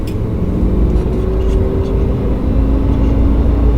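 A Lamborghini Huracan picks up speed on a race circuit, a loud, continuous low engine roar from inside the cabin, with a faint rising whine heard above it.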